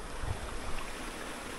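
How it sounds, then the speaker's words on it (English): A small waterfall on the Chipola River in North Florida gives a steady, even rush of falling water, a constant broadband wash with no other sounds over it. "There's a cool little waterfall over here too."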